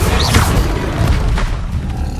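Confringo fire-blast spells explode in Hogwarts Legacy, a dense, loud, continuous booming roar with rumbling impacts layered over one another throughout.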